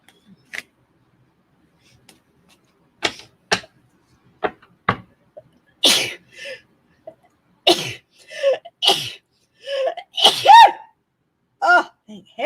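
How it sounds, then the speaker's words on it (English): Several separate bursts that sound like sneezes, coughs and gasps from a person with irritated sinuses, spaced over twelve seconds with silence in between, building toward a final sneeze, with a few voiced sounds mixed in. "I've been waiting to sneeze all morning."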